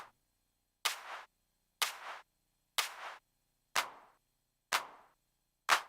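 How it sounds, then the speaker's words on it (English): Six sharp clap drum-sample hits played one at a time in the Cubasis music app, evenly spaced about a second apart, each a crisp snappy burst with a short bright decay, loud and close with no talking. "I want a different clap."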